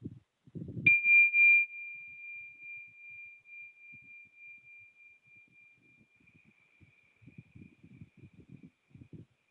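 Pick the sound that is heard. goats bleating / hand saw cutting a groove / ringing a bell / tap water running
ringing a bell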